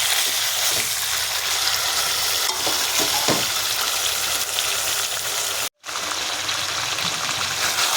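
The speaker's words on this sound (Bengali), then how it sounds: "আবারও একটু নাড়াচাড়া করে নেব" Bhetki fish bones fry in a pan while being stirred, giving a steady, loud broadband sizzle with scraping strokes throughout and one brief break in the sound near the end.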